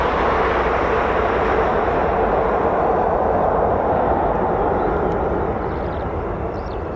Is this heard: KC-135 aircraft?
yes